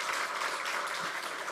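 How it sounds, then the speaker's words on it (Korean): Church congregation at a Sunday worship service in Uijeongbu applauding to welcome a newcomer, a steady wash of many hands clapping together, moderately loud and continuous with no talk over it. "박수로 우리 환영해 주시기를 부탁을 드립니다"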